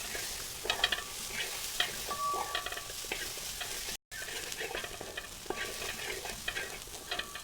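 Chicken, egg and vegetables stir-fried in an uruli, a traditional wide metal cooking vessel, with steady sizzling and repeated scraping and stirring strokes throughout, a brief break midway.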